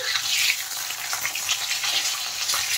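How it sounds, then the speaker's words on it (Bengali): Fish heads finish frying in oil, a bright steady hiss and crackle heard close and continuous, with no one talking. "দেখেন মাছের মাথাগুলো কিন্তু আমি ভালো করে ভেজে নিয়েছি।"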